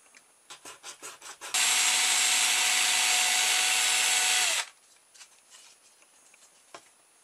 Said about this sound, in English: I'll just saw this piece off.